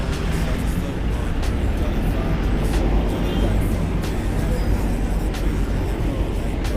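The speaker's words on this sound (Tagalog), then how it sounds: "Grabe ka traffic." Heavy street traffic in a busy Philippine city streams past in a dense, steady roar of buses and cars, with occasional passing swells and people talking faintly amid the din.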